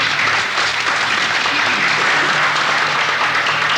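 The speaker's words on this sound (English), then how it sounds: "Let's give CARM a big round of applause" An audience at a historic preservation workshop in Monterey claps in sustained, even applause, dense and close throughout.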